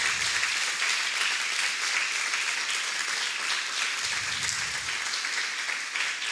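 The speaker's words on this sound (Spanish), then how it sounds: "Dale un aplauso al Señor." Sustained applause fills a church service for the Lord, a dense, steady wash of many hands clapping at even loudness throughout.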